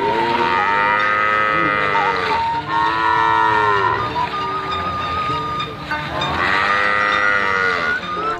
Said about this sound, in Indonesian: ini hewan kerbau